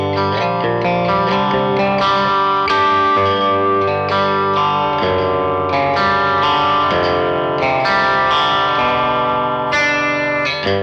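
Electric guitar played through a Vox AC30 amp with a sticky tape effect acting as overdrive: sustained, driven chords and ringing notes with chorus and echo shimmer, loud and continuous with no talking.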